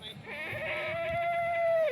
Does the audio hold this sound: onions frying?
no